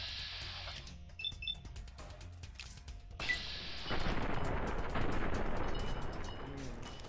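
Shotgun blasts in a video game, a burst of loud gunfire and heavy rumbling booms that swell and carry on through the second half, after a quieter stretch of clicks and chiming tones.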